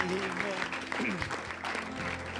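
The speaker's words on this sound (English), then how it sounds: "Let's give the Lord a hand clap of praise." A worship congregation claps in a lively, continuous round of applause, with a voice and some music-like tones carrying underneath.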